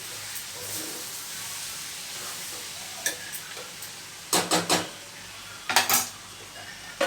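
Ivy gourd (tindora) frying in a pan, a steady background sizzle broken by scraping, clattering spatula strokes against the pan in short bursts toward the end.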